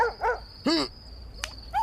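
A dog gives a few short, sharp barks close by, separated by brief pauses, over a steady background tone.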